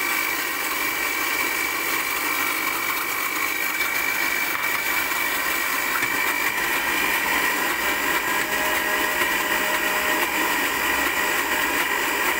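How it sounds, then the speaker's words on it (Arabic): A blender whirs steadily and loudly, beating milk into a homemade cream cheese spread until the mixture turns smooth and runny, with a continuous, unbroken motor hum and no talking. "احنا هنفضل نضرب طبعا لحد ما المزيج يبقى سايل خالص، يبقى زي الجبنه السبريد"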